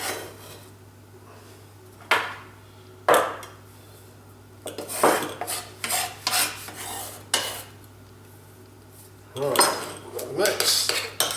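A knife rough-chops fresh garden parsley on a board, making bursts of rapid, close chopping taps separated by short pauses, with scraping sounds mixed in.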